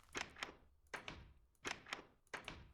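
Doors opening in a Minecraft modpack, four short wooden clunks spaced evenly about every three-quarters of a second, each a quick double knock, fairly faint with no talk.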